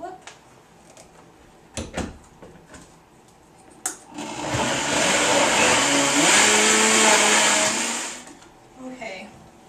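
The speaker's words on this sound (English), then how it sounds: "And then we'll blend this all up." A blender whirs through lemon and fruit for a raw food dessert sauce in a kitchen, running loud and steady for about four seconds. Before it starts there are scattered knocks and clicks, and it cuts off into quieter handling sounds.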